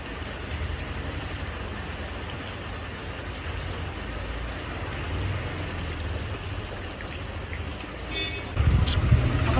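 Steady rain pattering outdoors on a garden where chilli and curry leaf seedlings are being planted, a constant wash of droplets with a low rumble, growing briefly heavier near the end.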